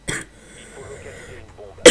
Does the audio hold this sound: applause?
no